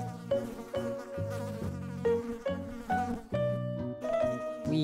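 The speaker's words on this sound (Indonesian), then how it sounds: "ternyata ini lebah teman-teman" A bee's buzzing plays as a fairly loud, continuous drone whose pitch shifts up and down in steps, heard alone for about five seconds.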